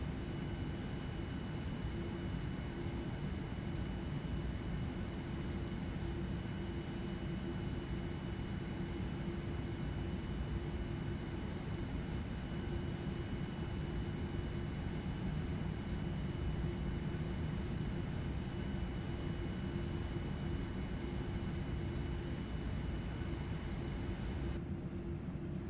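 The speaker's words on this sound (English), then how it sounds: "I just wanted you guys to be able to hear like the actual plane." Steady, loud engine drone of a QualityWings 787-10 Dreamliner airliner with Rolls-Royce Trent engines in a flight simulator, a continuous low roar with a faint whine that holds unchanged throughout and cuts off near the end.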